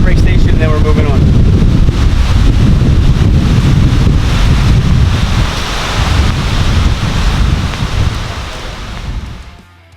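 Strong wind buffets the microphone in a loud, continuous roar with a rushing surf-like texture, easing slightly near the end, outdoors at an archery course.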